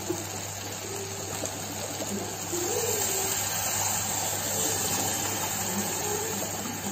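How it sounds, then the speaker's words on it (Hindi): Water is poured into a pot of khichdi mixed with coriander leaves, a steady close gushing stream over a low continuous hum, with no talk. "अब हम डालेंगे इसमें पानी।"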